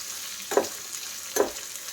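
Dried red chillies tempering in hot oil for massoppu saaru give a faint, steady sizzle, broken by two louder spoon stirs about a second apart. No voices are heard.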